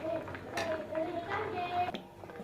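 A spoon stirs mango candy mixture in a pan on the stove, giving quiet, irregular scrapes and light metallic clinks against the pan over a low background hum.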